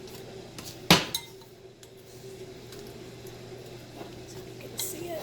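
A Pampered Chef Mix and Chunk tool mashes boiled eggs for egg salad in a bowl, giving one sharp clink against the dish, then lighter taps and soft scraping under quiet room noise.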